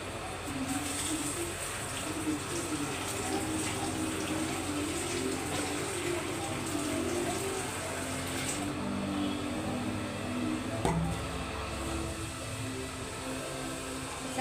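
Water poured into a pot for tomato rasam, a steady continuous splashing and trickling flow at moderate distance, fairly quiet with no talk.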